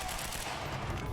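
Gunfire from the video game Quantum Break: a dense, continuous burst of loud shots fills the entire short moment without any talking.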